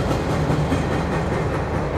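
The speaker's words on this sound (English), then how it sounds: "Two trains in one shot." A train rolls steadily along a railroad track near a river town, a continuous loud rumble with faint rhythmic clatter of the wagons, close by and with no talk.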